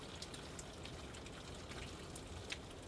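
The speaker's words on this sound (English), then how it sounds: "It's raining." Rain falls outdoors in Norway, a faint steady patter with scattered drops striking a surface and no voices.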